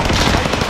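A brief, dense stutter of gunfire in a battle royale shooter, close and loud, lasting under a second.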